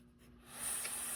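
A Cutthroat S7 single-bevel 200-grain broadhead blade is ground flat on a KME sharpener, a soft, quiet scraping hiss that swells about halfway through and holds steady to the end.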